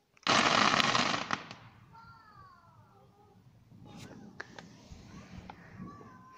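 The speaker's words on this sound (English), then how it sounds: "This is just like fireworks and stuff." Fireworks on bonfire night: a loud burst of crackling explosions up front, then scattered distant bangs and pops, with a cat meowing faintly in between.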